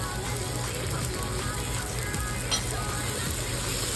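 Brinjal vadai mixture with onion stalks and chilies sautés in a pan, a steady dense sizzle with scraping stir sounds throughout, close and even in loudness.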